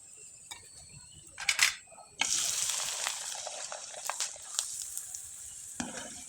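Phool pitha, a flower-shaped Bengali pastry, frying in hot oil: a steady bright sizzle swells after a quiet start and carries on with small crackles and pops up close.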